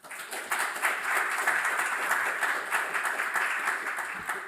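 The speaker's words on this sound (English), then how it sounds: "please give him a warm applause" A lecture audience breaks into warm applause for Prof. Antoine Buyse before his human rights talk, the clapping swelling in quickly and holding as a loud, dense, steady patter of many hands with no speech.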